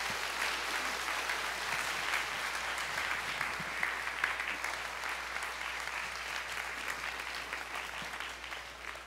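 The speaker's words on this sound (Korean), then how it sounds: "우리 박수로 모시겠습니다." Church congregation at a Korean Sunday worship service applauding to welcome the pastor, a steady, fairly faint wash of many hands clapping that continues evenly for several seconds.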